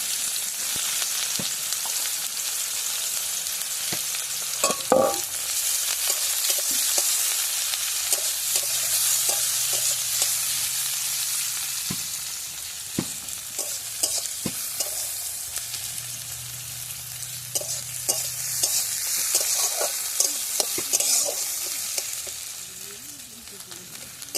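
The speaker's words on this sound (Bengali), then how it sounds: "ফোড়ন দিয়ে এবার আমি পেঁয়াজগুলো ভেজে নেব" Onions frying in oil with five-spice tempering in a pan, prepared for a sour and spicy mango and snakehead fish dish; a steady sizzle runs throughout, with the scrape and clatter of stirring over it and no talk.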